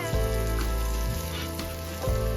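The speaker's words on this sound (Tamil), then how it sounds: "இதையும் சேர்த்து நல்லா வறுத்துக்கலாம்" Grated coconut roasting with softened onion and tomato in a pan for a South Indian tamarind curry, a steady close sizzle with no talking.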